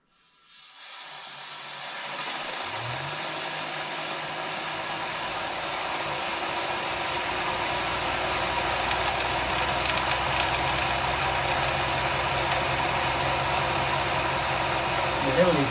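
A micro hydro turbine generator spins up and runs, a loud steady whooshing hiss with a rising hum that settles into a constant drone; a voice is faintly present.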